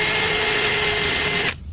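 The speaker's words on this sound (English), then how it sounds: "I'm going to use a Forstner bit to go ahead and pre-drill" A power drill fitted with a Forstner bit whines loudly and steadily at high speed, boring a screw recess in a dresser drawer rail, then cuts off abruptly into quiet.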